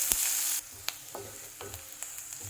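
Onions with a pinch of salt fry in a pan with a soft sizzle, a brief louder burst at the start followed by quiet sizzling and a few light stirring clicks.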